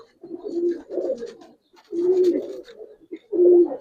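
A pigeon coos up close in three distinct, throaty phrases, each a soft rolling burble separated by brief pauses, loud and clear with no voices.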